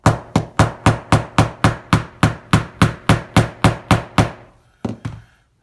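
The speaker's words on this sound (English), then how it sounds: "I'm actually going to use a metal face hammer" A metal face hammer strikes a trigger shoe into a Glock pistol hard and evenly about a dozen times in quick, steady rhythm, each blow a sharp ringing crack, then two final taps after a pause.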